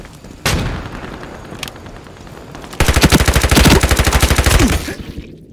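Gunfire in the shooter game Ironsight: a single loud shot, then a long rapid automatic burst of evenly spaced loud reports lasting about two seconds, close and dominant, no talking.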